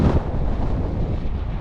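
Wind rushes over the microphone while riding an Orbea Gain M20i e-bike on a windy day, a steady low rumbling buffet with no talk, close and fairly loud.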